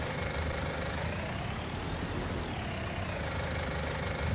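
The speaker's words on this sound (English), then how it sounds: "I'm going to use this little arm track tractor because I wanted to get as small a tractor as I could." A small track tractor in Farming Simulator 19 runs with a steady, unbroken idle, its low engine rumble constant and close throughout with no talk.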